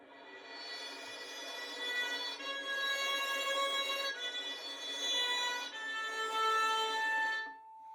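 Violin bowed sul ponticello, close to the bridge, giving a thin, glassy, metallic tone rich in high overtones; a steady sustained line of several long notes, moderately loud and close, with no speech.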